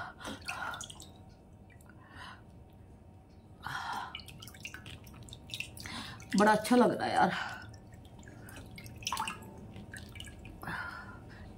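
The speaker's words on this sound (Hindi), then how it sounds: "फेस को ठंडे ठंडे पानी में डिप कर लेती हूँ" A face dipped into a basin of cold water at a table on a hot day gives a brief close splash and drips of water partway through, with someone talking before and after.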